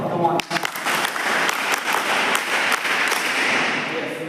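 An audience at a camp event claps heartily for the officers, a sustained burst of close applause with sharp individual claps and a few thuds, alongside some voices.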